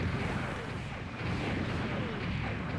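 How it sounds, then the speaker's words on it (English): Liquid plasma rounds fire in a Mobile Suit Gundam game, dense rapid booming bursts that run continuously and loud throughout, with no pause or talk. "you can't just keep firing liquid plasma rounds at people for too long"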